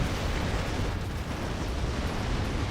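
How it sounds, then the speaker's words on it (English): Rocket artillery explosions in the Warno wargame roar as a dense, continuous rumble of overlapping blasts, loud and sustained with no gaps or voices. "See all the rocket artillery coming from all the way over there."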